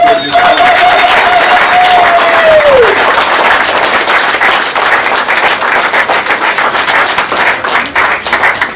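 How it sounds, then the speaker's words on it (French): A crowd at a Lions Club ceremony in Tshilombo breaks into loud, sustained clapping; a thin high whistling tone sounds over the first few seconds and then fades, leaving dense applause throughout. "Sous vos applaudissements"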